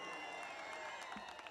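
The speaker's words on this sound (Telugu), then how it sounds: "చప్పట్లు కొట్టండి" Audience applause at a Telugu film pre-release function, a dense continuous patter of clapping heard at a distance with crowd murmur, steady throughout the short stretch.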